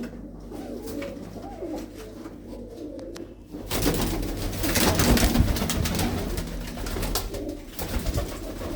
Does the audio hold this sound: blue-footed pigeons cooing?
yes